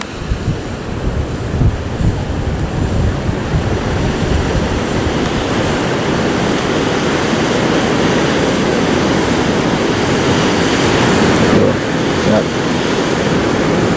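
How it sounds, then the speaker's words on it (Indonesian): Ocean surf at a southern Javanese beach in the late afternoon, a loud, unbroken roar of crashing waves mixed with wind buffeting the microphone, steady throughout. "Kalau naik pastinya deburannya nanti maha dahsyat tuh"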